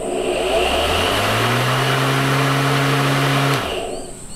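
A Ryobi cordless lawn mower running, a steady close electric motor whine that rises in pitch as it spins up, holds level, then cuts off sharply and winds down near the end.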